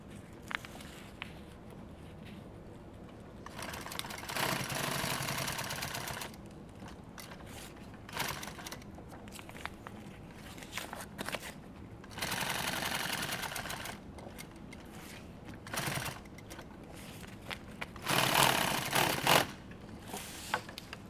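Sewing machine stitching along the leading edge of fabric in a gear build, running in several bursts of a few seconds each with quiet pauses between, close and fairly loud.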